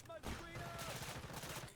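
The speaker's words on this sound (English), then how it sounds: "I hear gunshots nearby" Faint bursts of gunfire crackle in a Delta Force match, a quick flurry of shots under soft background noise.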